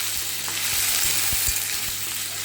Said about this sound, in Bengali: আলুগুলো আমি ভেজে নেব তো আলুটা খুব ভালো করে আমি লাল লাল করে ভাজবো